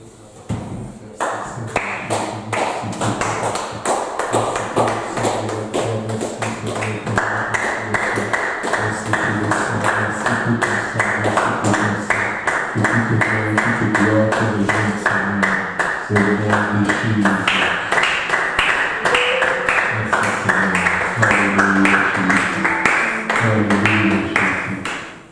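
A church congregation claps along in steady rhythm during a worship song, with music and singing carrying over the clapping throughout.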